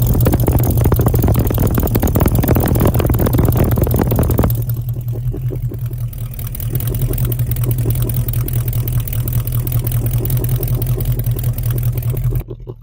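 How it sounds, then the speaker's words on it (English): A '73 Ford Mustang Mach 1 with a 351 Cobra Jet V8 runs steadily through its exhaust, a loud even rumble that drops to a quieter idle partway through and carries on alone. "Sounding healthy and strong from the 351 Cobra Jet V8."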